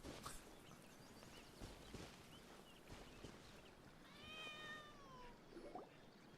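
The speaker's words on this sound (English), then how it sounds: "Follow the fleeing cat." A fleeing cat in Genshin Impact gives one clear, drawn-out meow midway through, faint and a little distant, among soft footsteps and light background game noise.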